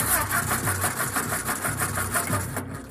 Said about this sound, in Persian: رضا ماشین رو روشن کن بریم